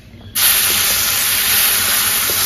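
Spiced bean paste hits a hot frying pan with a sudden loud sizzle, a steady broadband hiss that holds strong and close after the initial burst, with no talking.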